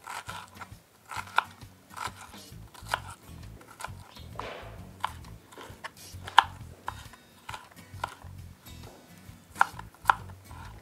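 A knife chops ingredients into small cubes on a board, quiet irregular taps and crisp cuts spread across the clip, close and without talk.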